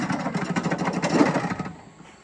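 A GreenWorks Pro CRZ 426 60V electric zero-turn mower runs close by with a dense, steady whirring drone that drops off and fades near the end.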